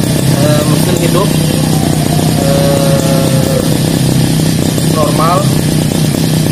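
A repaired lawn mower engine runs steadily at a close, loud, even idle after a fix for not starting or starting hard, with a voice talking over the drone.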